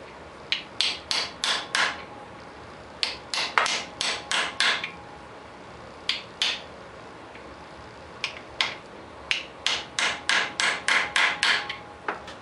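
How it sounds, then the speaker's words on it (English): A hammer strikes a metal punch to stake a nut into a notch on a shaft, landing in quick clustered series of sharp, close metallic taps with short pauses between groups. "I'm just going to take a punch, and I'm going to stake that nut down into that notch."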